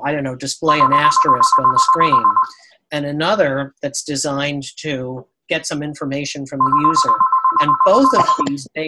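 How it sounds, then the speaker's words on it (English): A phone rings twice in a steady electronic tone, each ring lasting about two seconds, underneath a man's continuous nearby speech. "that's my phone ringing, just ignore it."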